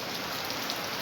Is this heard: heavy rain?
yes